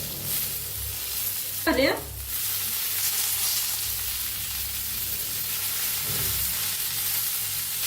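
Green chillies and coriander stems roast in a pan, giving a steady, close sizzle that runs unbroken throughout. A brief clatter of stirring comes near the start and a fainter one later.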